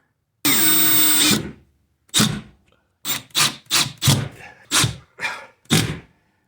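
A power drill drives screws to mount a mini split air conditioner bracket in a garage: one sustained whir, then a string of short, loud bursts close by, separated by brief silences.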